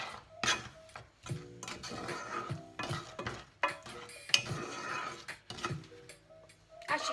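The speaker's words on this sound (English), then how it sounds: "I'm going to give that a little mix" Mixture stirred in a bowl while making a salmon dish: repeated clinking, tapping and scraping strokes in irregular rhythm, close and moderately loud, with no talking.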